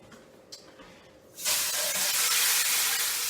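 A whole chicken hits hot, just-smoking oil breast side down and erupts into a loud, steady sizzle that holds for the rest of the moment, after a quiet start.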